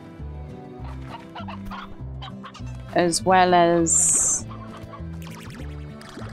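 Cartoonish chickens cluck and squawk on a chicken farm in the video game Slime Rancher, set over steady background game music, with someone talking quietly beside them and a brief louder burst of clucking in the middle.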